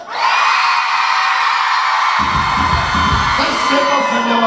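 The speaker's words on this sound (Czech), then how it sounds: "byste zaječili, jak to jen ženské umí" A crowd of women at a live outdoor concert shrieks together on cue, a loud sustained high-pitched scream that swells after a moment, with lower crowd noise and yelling joining underneath.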